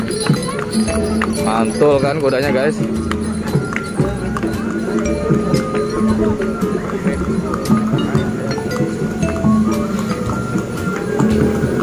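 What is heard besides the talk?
horse hooves clip-clopping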